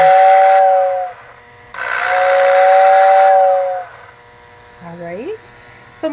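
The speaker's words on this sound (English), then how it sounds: "now we're going to show you a steam engine running" A small homemade steam engine runs with loud hissing steam and a steady whistle-like tone that stops and starts in two long blasts, followed by a short rising squeal, and a voice speaks between the blasts.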